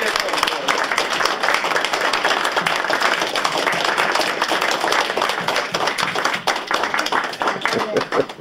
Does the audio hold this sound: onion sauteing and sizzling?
no